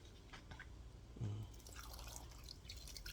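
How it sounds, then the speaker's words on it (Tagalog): Water dripping and trickling into a pot of fish paksiw with vinegar, a soft splash followed by light liquid patter over a low background hum. "ito konting tubig"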